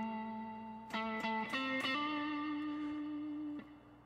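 Electric guitar played through an amp with gain cranked to around 80 and heavy reverb: several distorted chord strikes in quick succession, then one sustained ringing chord with a dense reverb tail that cuts off abruptly.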